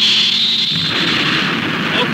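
A spaceship's wave motion engine ignites in an animated series with a sharp high whine that cuts into a heavy, roaring rumble of thrust, loud and sustained.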